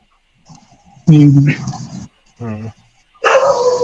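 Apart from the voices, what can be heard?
dog barking in the background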